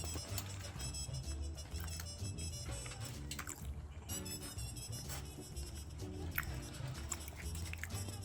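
Popeyes fried chicken being bitten and chewed close to the mouth, with soft repeated crunches and moist squishing chews at an uneven pace.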